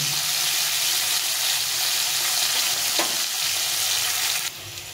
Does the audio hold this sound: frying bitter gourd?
yes